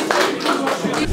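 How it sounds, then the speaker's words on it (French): Audience clapping in a short burst during a comedy show, a few quick claps with chatter and voices mingled in, moderately loud. "Applaudissez-la, s'il vous plaît"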